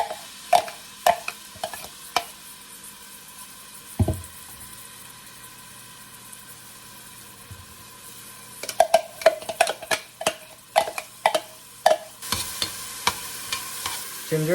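Garlic, onion and ginger sizzle in olive oil over high heat for chicken tinola, a soft, steady frying hiss broken by bursts of sharp spatula scrapes and taps against the pot.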